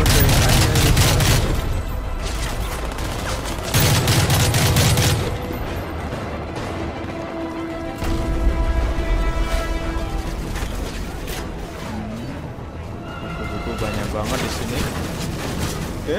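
Rifle fire in the Call of Duty MW3 video game, bursts of dense rapid shots and booms with mechanical clatter, loud and close amid ongoing game noise, with a voice talking over it.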